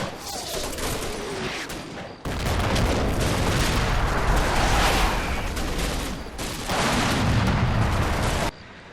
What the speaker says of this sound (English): the left side of our advance continues to put down suppressing fire on the enemy defensive line as it gets hammered by artillery